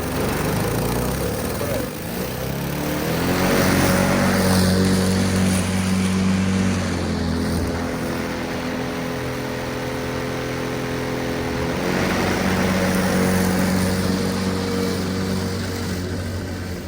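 A DeWalt cordless battery lawn mower starting up and running, a steady loud whirring hum with a strong low tone that swells slightly and settles, close by, no talk.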